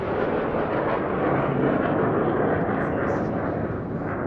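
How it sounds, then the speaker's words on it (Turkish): A loud, continuous roar from a fighter jet passing overhead during the bombing of the Turkish parliament, broad and rumbling, swelling slightly in the middle and holding steady throughout. "Bu bir savaş uçağıydı."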